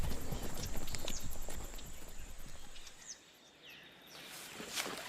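Horse hooves clip-clop at a steady walking rhythm, fairly close and clear, then fade and soften while faint birds and outdoor ambience carry on without speech.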